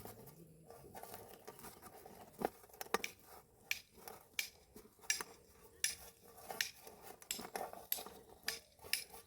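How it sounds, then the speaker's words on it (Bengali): Roasted dried chillies crushed by hand with salt give soft, irregular crackles and light taps, close and quiet, repeating throughout. "লঙ্কা কিন্তু ভালো করে নুন দিয়ে আগে আমি চটকে নেবো"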